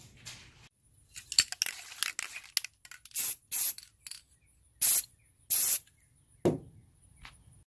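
An aerosol can spray-paints a spice rack in several short bursts of sharp hissing, some a few seconds apart, mixed with light handling clatter and rustling between sprays, close by and with no talking.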